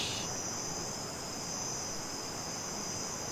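Cicadas drone in a steady, high, continuous buzz that holds unbroken and fairly loud throughout, with no voices.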